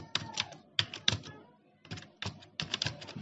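Computer keyboard typing while creating a new Android project, light clicking keystrokes in short bursts with brief pauses, close and fairly quiet.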